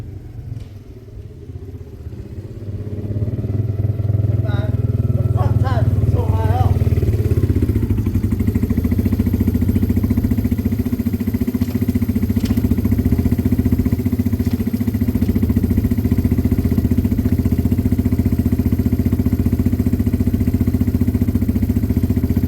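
A Peugeot moped engine starts up after a few quiet seconds and then runs steadily, a close, loud, even drone with some mechanical clatter that holds for the rest of the test, with no talk over it.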